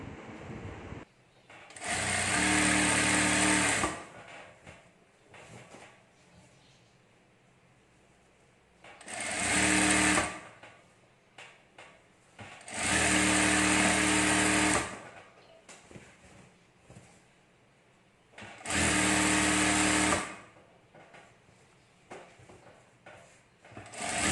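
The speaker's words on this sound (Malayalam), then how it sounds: "അടിഭാഗം തയ്ക്കുമ്പോൾ നമ്മൾ ലെങ്ത്ത് കറക്റ്റായിട്ട് എടുത്ത് കട്ട് ചെയ്തതിന് ശേഷം നമ്മൾ അടിച്ചു കൊടുക്കുക" A sewing machine stitches the hem of a nighty in four loud bursts of steady whirring, each lasting a few seconds, with quieter pauses between them and no talking.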